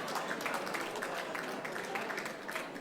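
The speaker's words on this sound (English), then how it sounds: "Big round of applause" A crowd at a soccer club reunion gathering in Wantirna, Victoria, gives a steady round of applause, dense, even clapping filling the room without pause.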